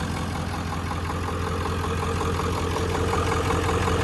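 Continuous low rumble of a Ford 7.3 diesel idling in a 1996 F250, with a steady, even clatter and a deep hum, close up and unbroken.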